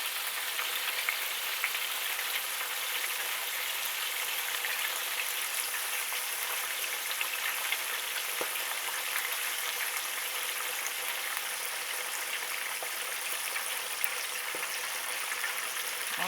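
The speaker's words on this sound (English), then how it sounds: "while our pork chops are deep frying for 2 or 3 minutes" Pork chops deep fry in about 1.5 gallons of oil, giving a steady, even sizzle and bubbling hiss that holds unbroken throughout, with no talking.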